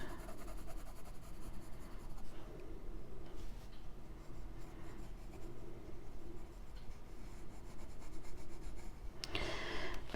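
Colored pencil scratching and shading on paper in a Hanna Karlzon Spirit Animals coloring book, a continuous soft close rubbing with steady back-and-forth strokes, no talking.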